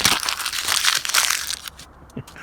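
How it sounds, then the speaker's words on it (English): A paper check being crumpled up by hand, a loud close crackling and crinkling that runs for over a second, then fades into a few faint rustles. "You could crumple up your check."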